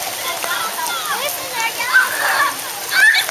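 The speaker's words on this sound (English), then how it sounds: "It's raining, right?" Rain falling on an outdoor swimming pool, a steady hiss of splashing water with children's voices and shouts mixed in throughout.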